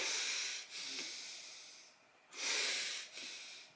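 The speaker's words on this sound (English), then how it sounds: "they just start to breathe loud" Heavy, exaggerated breaths in and out, loud and close, in a few long hissing pulses with short pauses between them.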